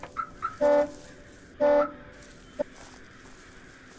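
A car alarm in the video game Abandoned Souls gives two loud, sustained electronic beeps about a second apart, followed by a short chirp and a few faint clucking blips.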